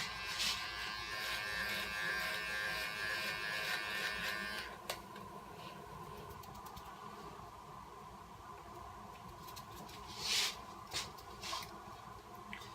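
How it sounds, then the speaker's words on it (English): An electric trimmer buzzes steadily up close while cleaning up a haircut, running for about five seconds before cutting off, followed by faint brushing and handling sounds. "Just going to grab my brush and my trimmer. I'm just going to clean the rest of that up."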